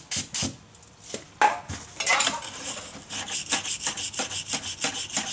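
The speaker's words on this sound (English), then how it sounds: "You should take a nylon brush and a little bit of brake clean." A nylon brush dipped in brake clean scrubs brake caliper pins on a 2005 Town & Country rear brake, giving quick, rhythmic rasping strokes that run close and fairly loud, with no talk.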